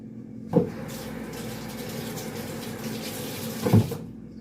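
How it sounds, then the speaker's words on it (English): Kitchen tap water runs steadily over fresh blueberries being rinsed, a continuous hiss with two brief thumps at the start and end as the flow hits and the tap is handled, no talking. "I'm gonna just rinse these off with some water right now."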